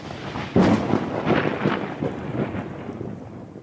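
A thunderstorm sound effect: a loud thunder crack rolls into rumbling over steady heavy rain, with no voices.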